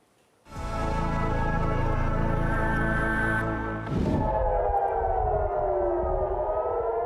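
Air raid sirens in Jerusalem start up loudly after a brief quiet moment and then wail in a steady, sustained tone that shifts pitch partway through.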